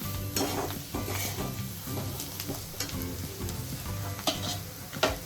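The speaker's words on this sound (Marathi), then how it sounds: "मसाले सगळे जे मगाशी घेतले होते ॲड केले तेही जरा व्यवस्थित परतून घेऊया" Spices for egg masala sautéing in hot oil in a pan, a continuous close sizzle broken by repeated scraping strokes of a spatula stirring them around.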